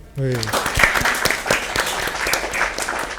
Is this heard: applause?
yes